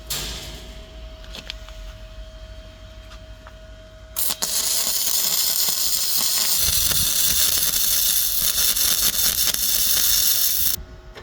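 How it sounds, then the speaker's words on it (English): Loud, steady crackling hiss of welding a latch onto a metal farm gate starts abruptly after a quieter stretch, runs for about six seconds, then cuts off. "so we're just welding the latch on the gate"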